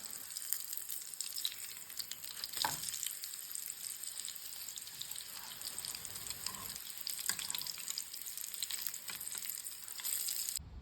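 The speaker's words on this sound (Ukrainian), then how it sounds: "Перлички я смажу на олії." Syrnyky, semolina cheese pancakes, sizzle and crackle steadily in hot oil, a continuous close frying hiss with no voices.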